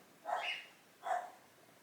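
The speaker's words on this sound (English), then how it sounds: "my dog's barking" A single dog barks twice indoors, two short, fairly faint yaps about a second apart against a quiet background.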